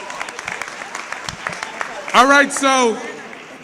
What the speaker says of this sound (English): Let's give Maston District Council Member Ulysses Wingo another great big round of applause.